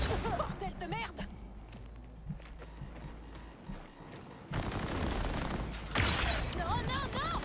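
Bursts of gunfire in the video game Cyberpunk 2077 crackle amid busy game noise, with heavier volleys near the end, while a player talks over them.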